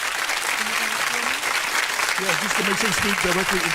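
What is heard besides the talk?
applause for a radio show guest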